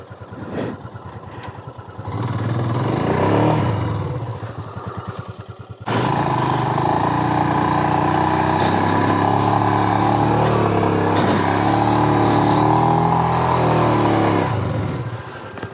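A motorcycle stuck in loose desert sand in Kutch, its engine idling and then revving hard in long sustained pulls, loud and close after a brief pause, with no talk over it.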